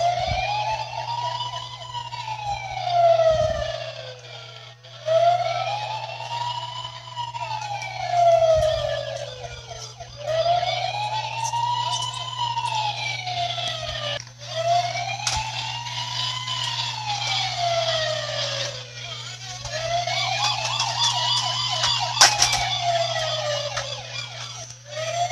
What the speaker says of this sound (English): Get your police car. Where's your police car?